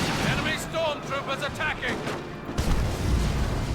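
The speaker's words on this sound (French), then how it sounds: "on a vu la grenade à fragmentation utilisée par le sergent là tout juste" A fragmentation grenade blast in the Dawn of War 2 real-time strategy game, Elite Mod 1v1 match: a broad rumbling explosion with battlefield gunfire bursts, following a stretch of commentator speech.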